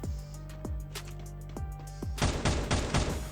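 Video-game gunfire in Free Fire: a string of single sharp shots at first, then a dense, rapid burst of automatic fire, moderately loud over a constant background hum.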